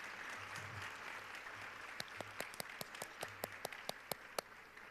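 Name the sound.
audience applause for award honorees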